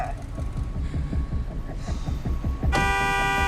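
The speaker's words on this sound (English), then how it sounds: "You don't have to honk." A car horn honks in a tense road-rage scene from the 2020 film Unhinged, a sustained blare cutting in near the end over rumbling traffic and engine noise.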